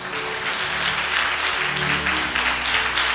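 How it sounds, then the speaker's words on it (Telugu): A church congregation bursts into loud, sustained applause, a dense wash of many hands clapping together at close range. "మీరు కొట్టండి చప్పట్లు."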